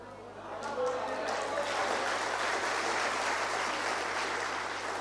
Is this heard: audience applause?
yes